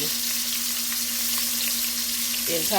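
Oxtail pieces sear in a hot pan with a steady, close frying hiss that holds throughout, under a faint continuous hum, with a brief clatter near the end.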